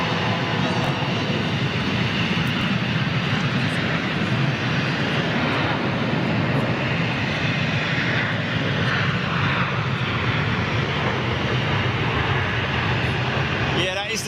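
Broad, roaring rumble of a KLM Boeing 747-400 jet airliner at Schiphol, steady and loud throughout with a sustained engine wash, while someone talks over it.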